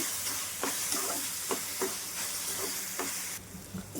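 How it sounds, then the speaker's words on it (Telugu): Onion sizzles in oil in a pan with a ginger, garlic and green chili paste, frying in a constant hiss, and a spoon stirring through it gives several sharp scraping knocks. "అల్లం వెల్లుల్లి పచ్చిమిర్చి అయితే పేస్ట్ చేశానండి, అది వేసేస్తున్నాను. ఇది కూడా వేగాలి."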